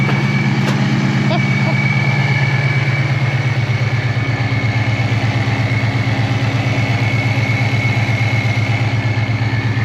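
A 1979 Fox-body Pace Car with a new supercharged Coyote V8 idles close by, a steady, even engine burble with a thin, continuous high whine riding over it.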